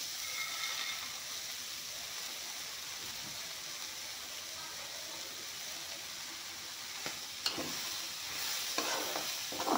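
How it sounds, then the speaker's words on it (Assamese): Makhana and peas fry in a pan over low heat, a steady soft sizzle running throughout, with a few scraping stirs toward the end and no talk. "এতিয়া এইখিনি অলপমান ভাজি ল'ম।"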